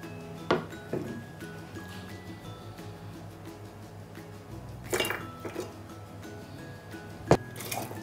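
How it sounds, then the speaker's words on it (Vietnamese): Garlic and chili pieces dropped into a sterilized glass jar for pickling, giving a few scattered clinks and soft knocks of food against glass, with quiet gaps in between. "bây giờ mình sẽ cho tỏi ớt vào trong cái keo này để mình ngâm"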